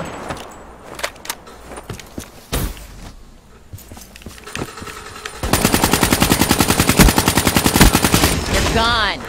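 Gunfire from the Black Ops 3 video game: scattered single sharp shots, including a shotgun blast, followed by a long, loud rapid automatic burst, with clicks and movement sounds between.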